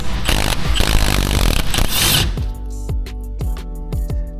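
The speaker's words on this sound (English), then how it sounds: "this T50 Torx bit. Should be able to just take it out and then pop this off." Power driver spinning out a bolt with a T50 Torx bit during interior work on a 5th-gen Camaro ZL1: a loud continuous whir for about two seconds, then a series of short clicking ratchet bursts, with no talking.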